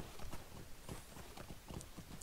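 Horse hooves clip-clop in a quick, steady rhythm in the Lord of the Rings Online video game, a mounted horse trotting outside the town, moderately close with no talking.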